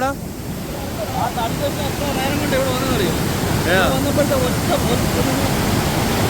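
Water rushes steadily past Perunthenaruvi dam across the Pamba river, a constant broadband roar that holds at one level throughout, with faint higher chirping sounds over it.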